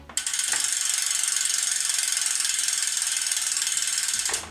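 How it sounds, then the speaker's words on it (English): Freehub ratchet on a carbon bicycle wheel ticking in a fast, even buzz of clicks for about four seconds, close and fairly loud, with no talk. "a couple of people in the comments have asked me for a free hub sound test"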